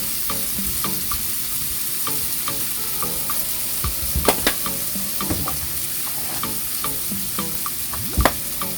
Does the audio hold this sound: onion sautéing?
yes